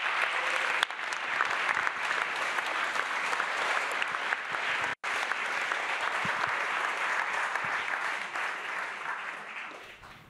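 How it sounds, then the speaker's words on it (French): An audience at an eloquence competition gives sustained, even applause for about ten seconds, a thick wash of clapping with one brief dropout midway before it tapers slightly at the end. "Sous un tonnerre d'applaudissements, s'il vous plaît."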